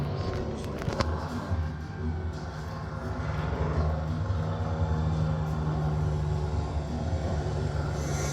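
Model helicopters fly in the film The World is Not Enough, heard at a fan event screening: a loud, steady engine-and-rotor drone rumbles throughout, with a sharp knock near the start.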